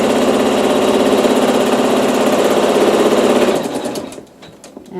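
An embroidery machine runs a tack down stitch on a quilt block, a loud steady close-up mechanical whir with rapid needle rhythm for about four seconds before it winds down and stops.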